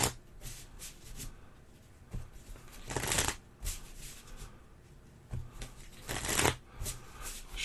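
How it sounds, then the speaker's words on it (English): Playing cards are shuffled close up, with soft riffling bursts and a couple of louder flutters against quiet rustling. "shuffle it a few times here."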